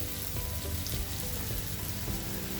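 Green chilies and curry leaves crackle and sizzle in hot oil, a steady dense frying hiss with scattered pops, alone and close.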